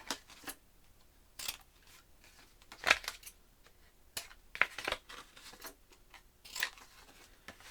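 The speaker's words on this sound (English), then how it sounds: "We are going to go around with our scissors and cut off any overhang." Scissors snip off overhanging paper around a handmade mini album in a series of irregular, crisp cuts, close up and fairly quiet, with short pauses between strokes.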